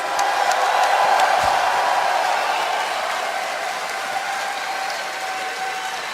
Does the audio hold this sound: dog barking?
no